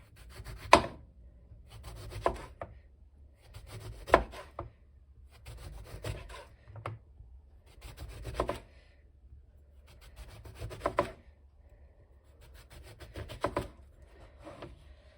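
A knife cuts through two lemons on a board in slow, separated strokes, each slice a short scraping crunch followed by a quiet pause, close and alone without talk.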